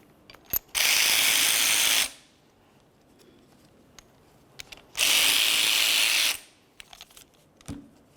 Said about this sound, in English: remove each of those 2 slider bolts. We'll use a 14mm.